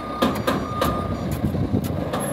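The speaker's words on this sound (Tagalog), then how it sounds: "Ayan po, jumbo bulk truck yan." A jumbo bulk cement truck sounds its reversing alarm, a run of evenly spaced sharp beeps repeating over a low rumbling engine and ambient noise at an unloading site.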